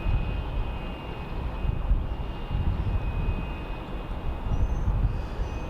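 A large aircraft, likely a C-17, takes off at Charlotte Douglas Airport, its engines a loud, steady broadband roar that holds throughout without a break or any voices.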